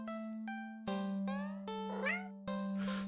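A cat in a video game meows four times in a row, each call clear and close, with a steady tonal hum running underneath.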